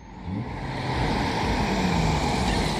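A car driving along a one-way street on Île Sainte-Hélène in Montreal: a steady, close engine and road rumble that swells slightly and holds for the whole clip, with no talking.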